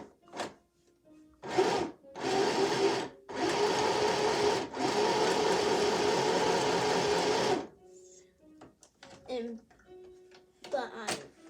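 A sewing machine stitches in several close bursts, with short pauses between them and one long continuous run. Quieter handling sounds follow.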